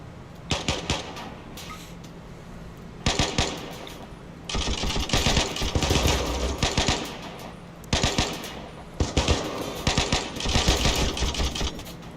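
Bursts of automatic gunfire as colonists shoot in the video game Rimworld, coming in repeated rapid volleys separated by short pauses, fairly close and loud, with no voices.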